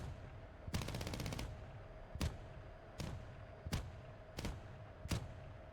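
Cannon fire from a MiG-19 in a combat flight video game: one rapid burst of shots, then five evenly spaced single loud reports over a steady engine drone.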